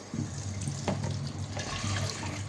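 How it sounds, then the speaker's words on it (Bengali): Hot water from boiled pumpkin and eggplant pours and splashes steadily through a strainer close by, a continuous watery rush with no talking. "তখন আমি গরম পানিটা ছেঁকে নেব,"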